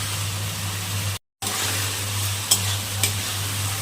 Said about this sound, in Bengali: কুচনো পেঁয়াজ আমাকে এখন ভেজে নিতে হবে।